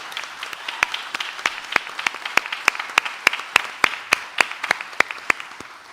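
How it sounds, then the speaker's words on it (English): Audience applause at an arts and culture candidate forum in Durham, a dense run of steady handclaps held at an even level for several seconds, with no talking over it. "I will ask for a hearty round of applause for our candidates"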